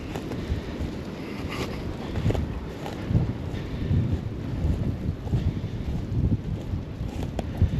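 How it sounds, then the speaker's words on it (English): Gusty wind buffets the microphone outdoors at a cold upstate New York survival camp, with a steady broadband rumble and scattered patter that could be big raindrops, continuous and fairly loud throughout with no voices. "it's getting breezy again. And all I hear is raindrops, raindrops. Big fat ones."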